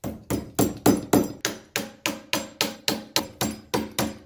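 A hammer drives 1.5-inch finish nails into a door weatherstrip to fix a drafty door, about fifteen sharp, evenly spaced blows in a steady rhythm, close and loud with no talk.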